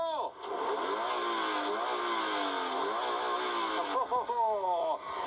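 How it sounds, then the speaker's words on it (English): A car with a 2.4-litre engine revs up and down repeatedly, the pitch rising and falling in waves, fairly faint as if a short distance off, ending with a few quick blips. "Go on, start it up. Let's hear some revs."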